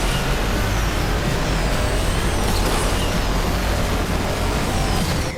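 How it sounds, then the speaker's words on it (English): Engine of a racing car in the Asphalt Xtreme off-road racing game roars steadily and loud, a dense continuous drone with no talking over it. "God, this car sounds so good."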